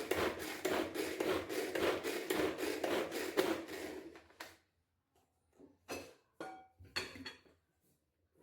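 Soaked, squeezed-out soybeans get coarsely chopped in a manual kitchen food chopper: a fast run of close, even clattering strokes, then a pause and a few scattered knocks.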